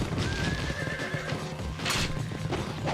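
A horse in the video game Ninja Gaiden Sigma whinnies loudly after being struck, a drawn-out neigh over clip-clopping hooves and rough combat noise, followed by a second sharp burst.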